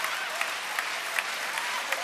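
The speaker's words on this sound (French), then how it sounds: "Et la Pontaise debout pour applaudir cette équipe de Suisse." A stadium crowd at the Zurich Diamond League athletics meeting applauds the Swiss women's 4x100 m relay team, a dense continuous wash of clapping heard from within the stands, steady and broad.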